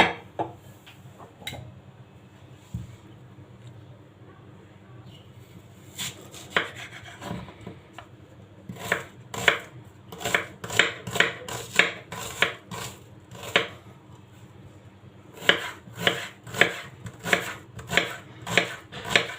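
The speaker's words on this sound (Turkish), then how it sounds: "bu kabın içinde 3 adet soğan var. Şimdi hemen doğramaya başlıyorum." A knife chops three onions on a board, with sharp, close taps that come in quick irregular runs between short pauses, along with a few softer rubbing sounds.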